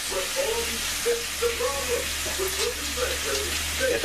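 Steak and onions frying in a pan, a steady broadband sizzle with a low hum beneath, while someone talks over it throughout.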